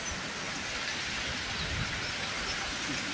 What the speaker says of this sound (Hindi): पूरा चारिआड़े पूरा बहुत वर्षा होची